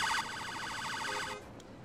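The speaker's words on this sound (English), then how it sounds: "Ambulance is almost here." An ambulance siren in the Emergency 4 game wails in a rapid, steady warbling cycle, loud and close, then cuts off abruptly, leaving a quieter background hum.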